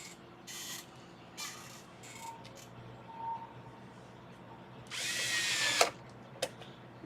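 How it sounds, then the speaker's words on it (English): A power driver screwing an Xbox One X console back together: several short buzzing bursts of the driver, then a longer run, with faint clicks and handling in a quiet room. "I can screw this thing back together."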